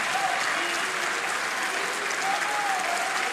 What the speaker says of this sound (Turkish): Bitirdikten sonra alkışlayın ya